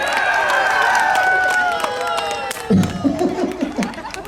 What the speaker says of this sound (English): Big round of applause to all the athletes here today.